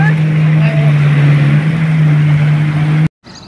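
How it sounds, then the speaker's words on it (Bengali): Two speedboats race across the open sea, their engines making a loud, steady close-up drone that holds for about three seconds before cutting off abruptly. "আরও দুটি স্পিড বোট যেন তুফানের মতন ছুটে আসতেছে"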